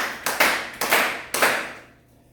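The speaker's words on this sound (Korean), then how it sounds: "일단 특강이 끝났으니까 박수 딱 5번만 칩시다" A class in a lecture room claps together a handful of times at the end of a special lecture. The claps are sharp and in unison, each ringing briefly in the room before the last one dies away into quiet.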